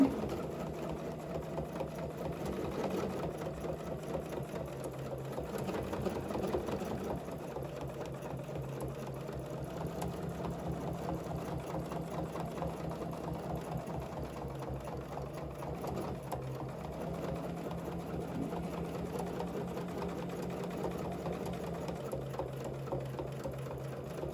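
Domestic sewing machine stitching an overall quilting design guided by rulers: a steady, fast mechanical whirr with brief pauses and restarts as the fabric is repositioned, close and alone.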